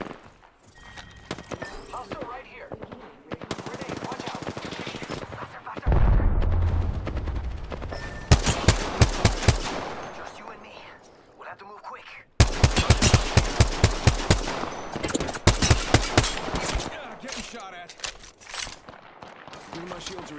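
Gunfire in Apex Legends comes as bursts of rapid automatic shots and sharp single reports in two loud clusters, broken by quieter stretches of footsteps and game effects.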